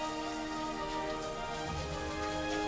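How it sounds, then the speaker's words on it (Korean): Heavy, thick raindrops pour down steadily at an outdoor training camp for handcycle athletes, forming a dense, unbroken roar with no voices. "쏟아지는 굵은 빗방울이 그들의 입술을 반겼는데요"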